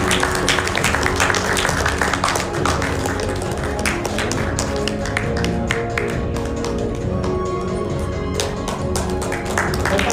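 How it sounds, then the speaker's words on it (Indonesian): Audience applause at a meet and greet event, dense steady clapping from a crowd that carries on loudly for about ten seconds, with a few voices faintly mixed in. "Mari kita berikan tepuk tangan untuk kerjasama yang sudah dilaksanakan."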